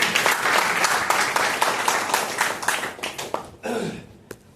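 A seminar audience claps in a dense burst that gradually thins and fades over a few seconds, ending with a couple of scattered late claps.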